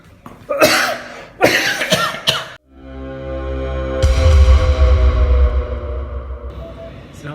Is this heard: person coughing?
yes